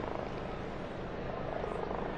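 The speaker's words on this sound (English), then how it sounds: "you can hear the helicopters" Helicopters hover over St. Peter's Square in Vatican City during a papal election, a steady broad rotor and engine roar that stays constant and fairly distant, with no voices audible.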